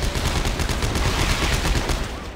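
Rapid gunfire bursts from the Dead Space 3 video game, a dense, continuous volley of shots sustained for a couple of seconds, loud and close.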